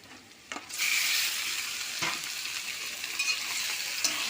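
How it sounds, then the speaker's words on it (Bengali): Chicken fries in a pan with a bright, continuous sizzle that flares up as the meat goes in, with occasional stirring scrapes and no talking. "চিকেনটাও ভেজে নেবো।"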